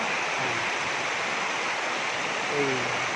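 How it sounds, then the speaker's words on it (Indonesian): Seven Bidadari waterfall in North Aceh, near Lhokseumawe, gives a steady broadband rush of falling water, constant and fairly close, with no voices over it. "kita sudah sampai di air terjun 7 Bidadari, Kabupaten Aceh Utara, Loksmawe"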